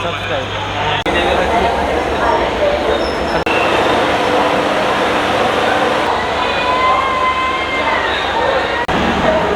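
Loud, steady rumble of a train arriving at Kolhapur station, with rail clatter and high squeals over the din, and voices of a crowd mixed in throughout.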